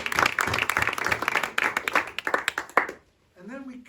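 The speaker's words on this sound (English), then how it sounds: "Round of applause." Audience at a village history group Christmas event clapping together for about three seconds, a dense close patter that cuts off abruptly, followed by a brief voice.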